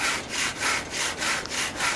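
A hand saw cuts waste wood off the corner of a cabin log in steady back-and-forth strokes, about seven rasping passes, close and alone.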